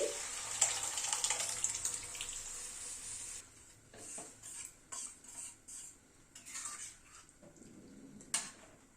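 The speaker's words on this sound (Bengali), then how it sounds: "এবার ডালটা ঢেলে দিচ্ছি।" Cooked dal poured into a pan of stirred spinach, a wet splashing pour with a hiss at first, followed by clinking of a utensil against the metal pan in scattered knocks.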